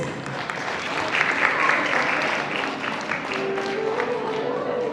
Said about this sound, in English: Let's clap louder for their parents.